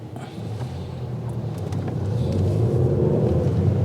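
A car drives along a road, its steady low engine rumble and road noise swelling slightly louder toward the end, with some wind buffeting and no talking.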